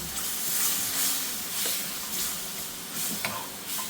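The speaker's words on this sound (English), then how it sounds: "Next I'm adding the base gravy all at once. Got a nice high heat here." Base gravy sizzling hard in a hot wok set on a cooker's wok ring, cooking a Madras curry: a steady, bright frying hiss with occasional stirring clinks and spits, close and fairly loud, no talking.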